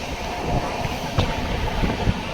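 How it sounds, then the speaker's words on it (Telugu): A new LHB passenger train running at speed, heard from on board as a steady, loud rumble with rhythmic wheel knocks and rattling throughout, no talking. "ఈ కొత్త ఎల్హెచ్బి ట్రైన్ అయితే చాలా స్పీడ్గా అయితే వెళ్తుంది"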